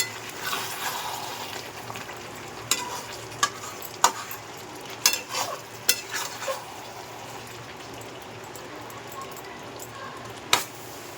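Chicken being stir-fried for kosha sizzles softly in the pan while a metal spatula scrapes and clanks in irregular strokes, each one a distinct knock over the steady frying hiss.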